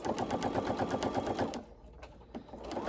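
A sewing machine runs close up, stitching fabric in a rapid, even mechanical rattle for about a second and a half, then stops and leaves a few faint clicks.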